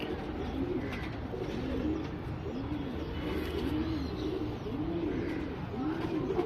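Old-lineage pigeons coo in a soft, repeated rolling rhythm, each call a low burbling phrase, heard at moderate distance over a steady background hum.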